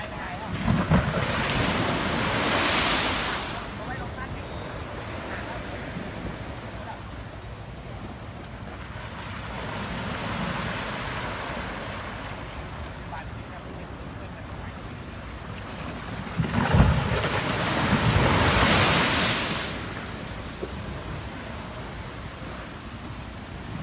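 Strong sea waves roll onto Rayong beach under a still, overcast sky, each surge building into a loud broad roar and easing back, heard for about 24 seconds with steady wind rumble on the microphone and no talk.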